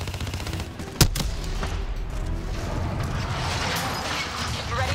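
Sustained automatic gunfire rattles through a Call of Duty Black Ops 3 rescue battle in Ethiopia, with one sharp, loud shot cracking out early above the dense, continuous barrage of battle noise.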